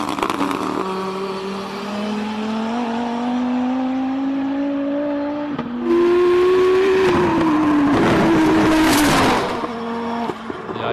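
Race car climbing the Simola Hillclimb, its engine note rising steadily through the gears with short shifts, then a louder nearer surge and fall as it passes, carrying on at a distance.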